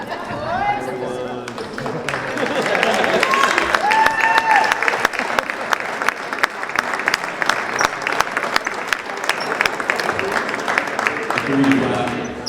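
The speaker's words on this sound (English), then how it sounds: "Round of applause for the Vikings" A crowd at a high school boys basketball game applauds loudly and steadily for the Wareham Vikings, with chatter and a few voices mixed in, the clapping sustained throughout.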